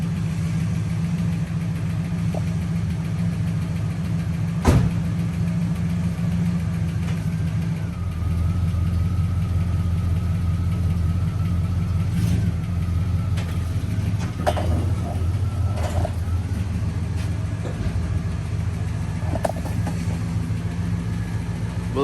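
A 1970 Buick Skylark V8 idles steadily and loudly after starting, a close, continuous low rumble with occasional small revs and clicks, no voices.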